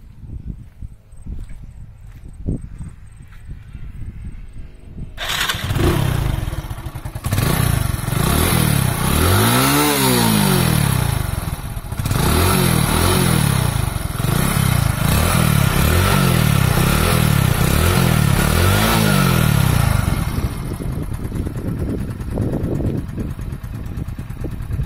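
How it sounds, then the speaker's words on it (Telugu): A 100cc motorcycle engine is started and settles into a steady idle with a few throttle blips, loud and close, running continuously for most of the stretch. "సో నేను ఒకసారి మీకు స్టార్ట్ చేసి బైక్ సౌండ్ ఎలా ఉందో ఒకసారి చూపిస్తానండి."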